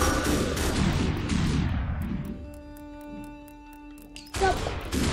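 Gunfire in the slow-motion shooter game Superhot: a dense burst of loud shots and crashing impacts, then a fading ringing tone before another loud burst near the end, with a voice talking faintly underneath.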